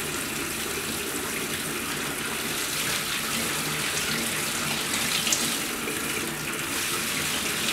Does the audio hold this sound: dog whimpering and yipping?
no